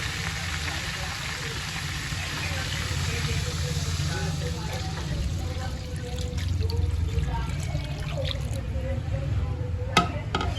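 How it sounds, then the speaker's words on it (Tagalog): Water pours steadily into a cooking pot of fish broth over a constant low engine-like hum, with faint clinks and some indistinct talk in the background. "lalagyan ko na po ng tubig"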